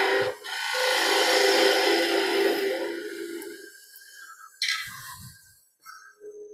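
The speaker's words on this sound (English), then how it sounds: "take a bit of wood out. Few shallow cuts with spindle gauge." A spindle gouge makes shallow cuts in wood spinning on a lathe, producing a sustained, loud scraping hiss for several seconds, then brief rasps and a short scrape near the end.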